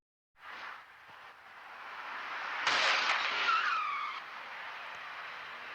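A Lada crashing into another car on a Russian road: tires skid and squeal loudly, then a sharp crunching impact lands midway, with screeching scrapes trailing off into steady road noise.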